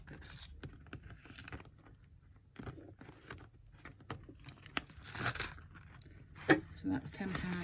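Coins go into a zipper pouch during UK cash-stuffing budgeting, with close, quiet metallic clinks and jingles and a few short raspy zip bursts, spaced out between soft speech.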